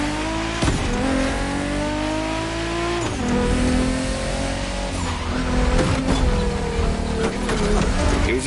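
Race cars in The Crew Motorfest video game during a final race, engines roaring loud and continuous with rising and falling revs through gear shifts and occasional tire squeal.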